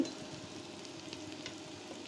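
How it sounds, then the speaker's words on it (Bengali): Onions fry golden brown in a little oil, with a constant soft sizzle and faint crackles, close and steady throughout. "পেঁয়াজ গোল্ডেন ব্রাউন করে ভেজে নেব।"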